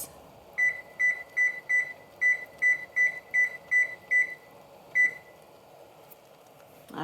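A kitchen timer is set with a run of about ten quick, evenly spaced electronic beeps, then one more beep after a short pause, close and clear over a quiet kitchen while zucchini relish simmers.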